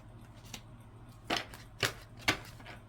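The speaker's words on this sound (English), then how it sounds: "I just continue to shuffle these cards until something screams out or come out" Tarot cards being shuffled, with several soft papery riffles and slaps in short separate bursts, close and fairly quiet.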